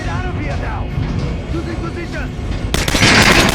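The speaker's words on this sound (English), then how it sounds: "Shoot the dummy in the head." A firearm is shot at a training dummy in Metro Last Light. Voices talk over low background noise at first, then a loud gunshot cracks near the end and rings out as a bright burst.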